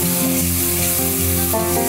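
Crushed red chillies stirred into pasta and chicken frying in a pan give a loud, steady sizzle with soft scraping from the stirring, and no talk over it.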